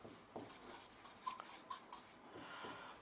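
Pen writing the word solution by hand on paper for a chemistry lesson, a steady run of close scratchy strokes for about three seconds with short pauses between letters, no talking.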